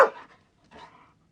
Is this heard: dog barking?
yes